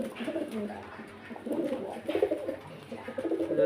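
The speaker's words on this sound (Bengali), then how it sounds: "পিওর মুর্শিদাবাদের গিরিবাজ পায়রা এগুলো" Giribaz pigeons from Murshidabad coo at a pigeon market in Beldanga, with soft, repeated throaty burbles rising and falling close by, several birds overlapping.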